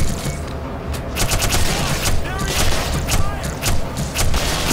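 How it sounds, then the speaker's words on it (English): Gunfire in the Black Mesa video game, with repeated sharp shots and bursts over a dense, noisy game soundscape. The firing comes in uneven clusters throughout. "I should be able to shoot it way easier"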